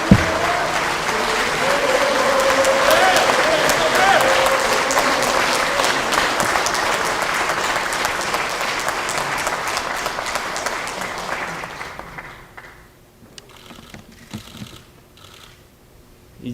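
A crowd at a People Power Party political gathering gives a loud, sustained round of applause for a party leader's entrance, dense close clapping that fades out near the end into quieter room noise and a few stray claps.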